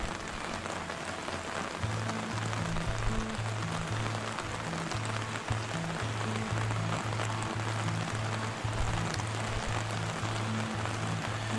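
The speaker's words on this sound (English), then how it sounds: "This is the Coomera River, and it is flowing, absolutely flowing here because of the torrential rain" Coomera River in Queensland's Scenic Rim running high and strong after torrential rain, a steady, dense rush of water with a constant hiss, close and fairly loud throughout, mixed with a faint low rhythmic hum.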